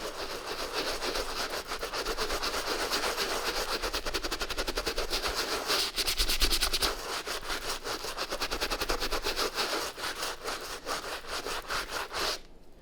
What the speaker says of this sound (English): I'm just going to hit that piece up one more time, again using a soft bristle brush